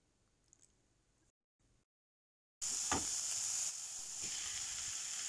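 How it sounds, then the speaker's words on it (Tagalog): Sliced onion hits hot oil in a pan and bursts into a sudden loud sizzle after near silence, settling into a steady close frying hiss with a few crackles. "So, ngayon isasutin na po natin yung ating naka-slice na sibuyas."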